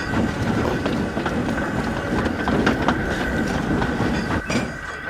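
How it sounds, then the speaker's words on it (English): Train engine shunting rolling stock around a station, a steady rumbling roll of wagons with faint clickety-clack and brief clanks throughout, fairly close and loud with no voices. "Later that day he was shunting more rolling stock around the station."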